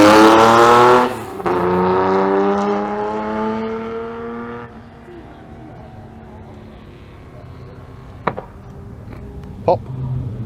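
A TVR Cerberus sports car engine revs hard and climbs through rising pitches at Goodwood Motor Circuit, then fades into a quieter idle with a couple of sharp pops near the end.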